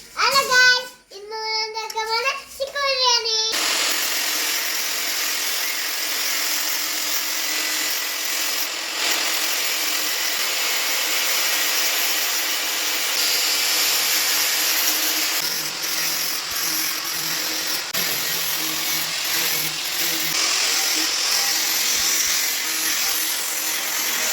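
A rented power cutting machine slicing through wire net for a chicken coop, a sustained loud high-pitched whine running steadily for over twenty seconds after a brief varying sound at the start.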